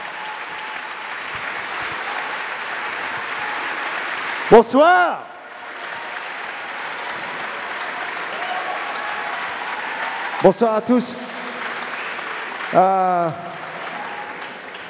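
Audience applause rolls steadily through a stage gala evening as a comedian comes on, with a voice greeting the crowd briefly twice over the clapping.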